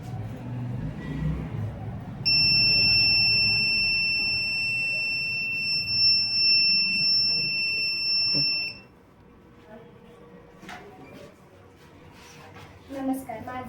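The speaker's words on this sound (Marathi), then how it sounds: "आपण हे बटन दाबल्यानंतर 5 सेकंदासाठी बझर वाजतो." A buzzer in a student electronics project with a five-second timer sounds as a sharp, steady high-pitched tone for several seconds, then stops and leaves a quiet room with faint background voices.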